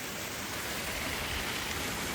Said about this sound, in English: So right now over here, it's very rainy, guys.